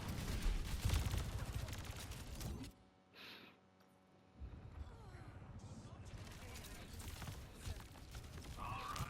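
Rapid gunfire rains on D.Va's mech in Overwatch, a dense, continuous clatter of shots. It drops out briefly near the middle, then resumes at full intensity, with voices likely mixed in.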